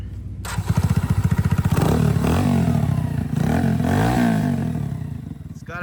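A Venom Cub 125cc four-speed scooter engine starts up and idles with a rapid putter through a beefy exhaust, then revs up and down a few times, loud and close.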